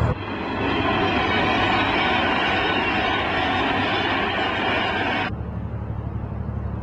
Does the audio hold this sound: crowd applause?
no